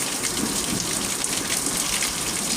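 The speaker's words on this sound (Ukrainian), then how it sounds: "вже ось дощик припускається" Steady rain falls over a vegetable garden in the Poltava region, a dense, continuous hiss of drops pattering on surfaces, close and even throughout with no voices.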